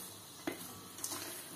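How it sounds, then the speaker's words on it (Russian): Oil heating in a preheated frying pan gives a faint, steady sizzle with a couple of sharp utensil clicks against the pan. "Я сковородку уже заранее раскалила, немножко масла налила."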